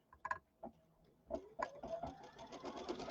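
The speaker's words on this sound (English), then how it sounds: "We're going to sew our little border, and it's going to kind of start and then work its way up." An embroidery sewing machine stitching a border, starting with a few soft isolated clicks and then building into a faint, steady mechanical run of rapid stitching.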